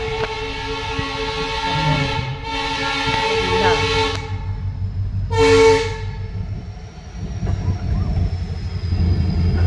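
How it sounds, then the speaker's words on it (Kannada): A train rolls past a railway level crossing while traffic waits at the gate, a loud steady rumble of wagons with two bursts of horn blaring close by, and no talk over it. "ಸೊ ಟ್ರೈನ್ ಪಾಸ್ ಆಗೋ ತನಕ ನಾವು ಅಲ್ಲೇ ವೇಟಿಂಗ್ ಮಾಡಬೇಕಾಯ್ತು"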